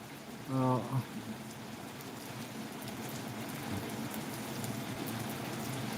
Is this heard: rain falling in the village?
yes